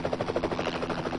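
Helicopter hovering near high-voltage power lines during live-line repair work, its rotor chopping in a steady rapid pulse over a constant engine drone, loud and close.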